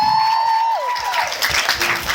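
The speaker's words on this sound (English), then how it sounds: "A warm, big, really loud round of applause" A large crowd applauds loudly at a press conference at Ngee Ann Poly in Singapore, steady dense clapping filling the clip after a brief sustained tone at the start.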